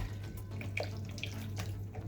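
Hot water is poured and strained over dirty vegetable leaves for Nigerian efo riro, a faint close splashing and trickling with soft drips over a low steady hum.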